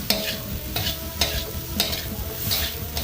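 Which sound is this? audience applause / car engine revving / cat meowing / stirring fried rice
stirring fried rice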